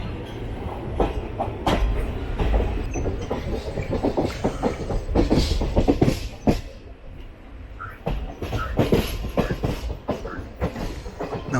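A Hisar–Coimbatore Express hauled by a WAP-7 electric locomotive passes near Shoranur, heard from aboard another train as a rhythmic clatter of wheels over rail joints with intermittent clanks, moderately loud throughout.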